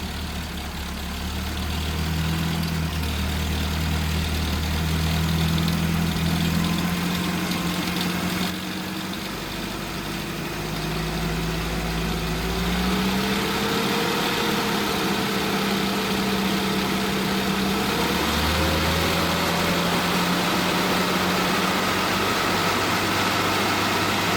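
A small engine idles steadily, with a low, even hum and a slight wavering in pitch throughout, heard close up with no talking.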